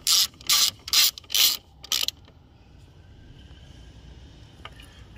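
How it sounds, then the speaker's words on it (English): A 10 mm ratchet wrench tightening a bolt during an air filter change on a Mercedes GL350, five loud, close, rapid clicking bursts in an even rhythm, then quiet background hum. "So we'll grab our 10 millimeter and tighten that one there up."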